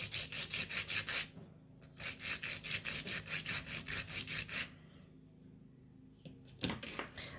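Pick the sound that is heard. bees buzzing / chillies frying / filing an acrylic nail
filing an acrylic nail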